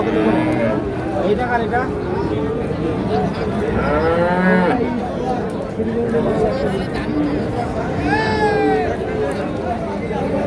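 Cattle moo repeatedly amid a busy, talkative crowd at a cattle market, several drawn-out lowing calls rising over steady background chatter and people talking.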